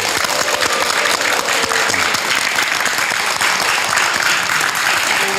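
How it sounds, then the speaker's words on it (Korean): A studio audience at a television talk show claps loudly and continuously, a thick, even roar of many hands that fills the whole stretch with no talk over it. "맞다라고 생각하시면 박수 한번 해보시죠."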